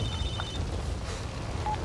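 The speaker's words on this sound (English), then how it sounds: "Well, hello, phone call." A phone rings in Resident Evil 6 during Ada's campaign finale, short electronic tones sounding over a steady, fairly loud game background rumble, with no talking.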